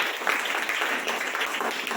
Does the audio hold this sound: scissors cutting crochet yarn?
no